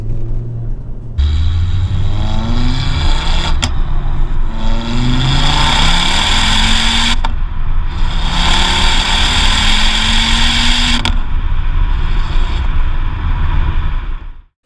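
Ford Focus RS MK2 with an MP350 upgrade and aftermarket exhaust, recorded from the rear; loud deep engine note climbing through several rising revs with brief gear-change dips, sustained and close, no talk.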